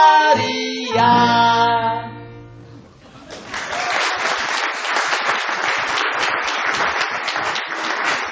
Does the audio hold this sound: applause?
yes